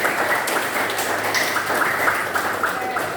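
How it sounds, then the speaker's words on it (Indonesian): Students in a classroom guidance lesson give brief applause, a continuous patter of hand claps at moderate volume with some voices mixed in. "ayo beri tepuk tangan"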